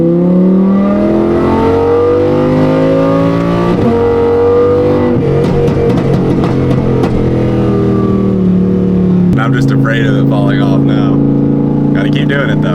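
Audi R8 engine revving hard with a run of pops and bangs, loud and close, with sustained tonal engine drone shifting pitch across several revs while voices talk over it.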